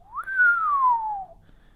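A single person's whistle rises quickly, then glides slowly downward in pitch, clear and close against near silence.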